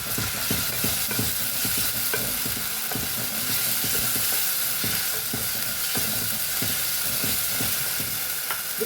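Ginger, garlic and green chilli paste frying with browned onions for a Rayalaseema-style eggplant tomato curry. A dense, steady sizzle sounds close and loud, with frequent rhythmic scraping stirs throughout and no talking.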